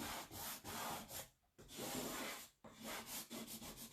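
Paste scraper dragged across a wooden board in repeated rough scraping strokes, close and loud, with two brief pauses between bursts.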